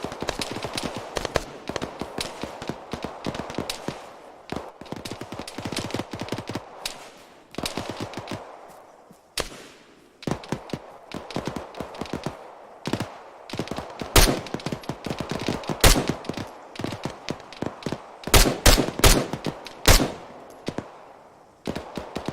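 Gunfire in a patrol firefight: a long run of sharp single shots and rapid bursts, some close and loud, others fainter, growing denser toward the end, with no talking.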